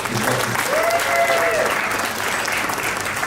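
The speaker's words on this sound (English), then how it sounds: "Round of applause for Mona, please" Audience applause at an awards show, a dense continuous wash of clapping from a large crowd, with a brief tonal voice-like sound rising briefly within it.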